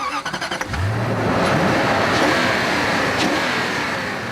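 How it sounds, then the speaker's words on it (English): A 2003 Range Rover with a BMW 4.4-litre 32-valve V8 revs hard and loud. A short throttle blip comes first, then a sustained, rising engine roar fills the rest close up, with no voices. "This free-revving 32-valve V8 produces 282 horsepower"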